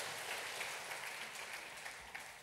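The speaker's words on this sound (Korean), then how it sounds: "우리 하나님께 영광의 박수를 올려드리십시다." A church congregation at a Sunday worship service applauds together, a dense, even patter of clapping that carries on steadily throughout at a faint, distant level.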